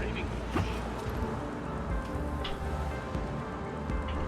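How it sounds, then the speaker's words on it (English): Rain falls steadily in the Mass Effect 3 video game, a soft continuous hiss with scattered droplet taps. A faint low rumble sits beneath the rain. "It's raining."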